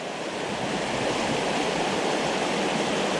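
A stream running through Rock Creek Park gives a dense, continuous rushing wash of water, steady and fairly loud throughout.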